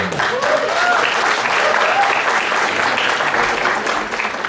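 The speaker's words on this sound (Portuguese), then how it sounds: "Pode aplaudir, hein? Para todos." Steady, loud applause from a gathered audience fills the room for several seconds, with a voice briefly audible over the clapping before it eases slightly at the end.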